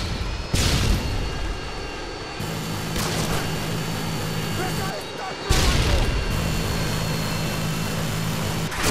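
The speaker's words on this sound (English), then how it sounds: "Friendly Harriers inbound." Harrier jets roar overhead in Call of Duty Modern Warfare 2 in two loud passes a few seconds apart, over a steady droning engine hum and distant battle rumble.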